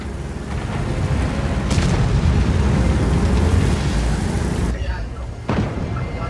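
Tank destroyed in the World of Tanks video game, a loud sustained booming blast with rumbling debris and a second burst near the end, while people talk over it.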